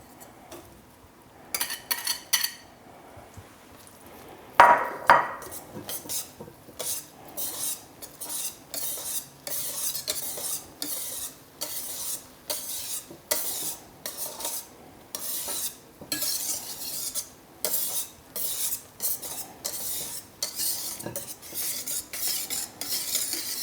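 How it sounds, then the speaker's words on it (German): A whisk folds cheesecake batter made with quark in a bowl, giving a rhythmic series of soft clinks and wet scrapes against the bowl, close and steady with no talking. "Ich mache das immer mit dem Schneebesen vorsichtig."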